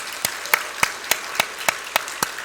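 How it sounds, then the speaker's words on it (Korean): Church congregation clapping to encourage the fathers standing up during a sermon, a steady rhythmic beat of loud, even claps about three per second. "우리 아버지를 위해서 격려 박수 한번 할까요?"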